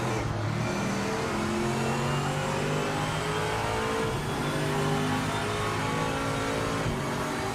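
Race car engine in Project Motor Racing revving steadily after a downshift, a continuous loud high-pitched engine drone with shifting harmonics and no talk throughout.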